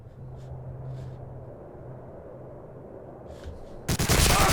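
In the video game Medal of Honor: Allied Assault, over a low background hum, a few faint distant shots pop early, then a loud, close burst of rapid gunfire from a tower erupts at the end.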